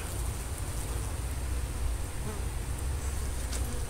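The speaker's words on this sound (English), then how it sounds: "Good looking bees." Honeybees hum around a rehomed hive after a trap-out, a steady close buzzing swarm sound with a low rumble beneath, continuous and without talk.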